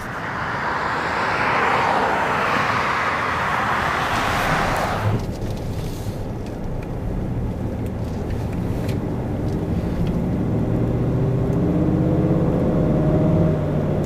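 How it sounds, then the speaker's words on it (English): The 6.2-litre V8 of a 2015 Cadillac Escalade 4x4 revs up in a loud, rising rush that peaks and then drops back to a deep, steady rumble, heard close with no talk. "I do love the growl of this engine."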